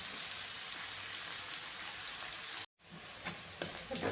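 Red onion fries in oil in a pan, giving a soft, continuous crackling sizzle that cuts out briefly, then returns with a few louder pops.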